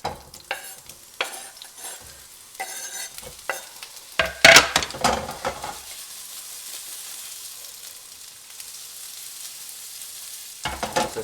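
Onions frying over medium heat in a pan for Filipino corned beef, with a soft steady sizzle filling the background between louder bursts of stirring and clatter early on, then settling into a quiet continuous hiss.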